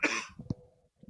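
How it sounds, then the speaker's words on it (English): A single close, sharp cough bursts out, followed by a softer throat-clearing rasp and faint breathy sounds. "I'm gonna cough."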